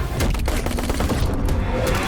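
Firecrackers bursting in quick, dense succession within a movie trailer, a loud continuous crackle of sharp pops layered over booming low rumble, filling the whole stretch without pause.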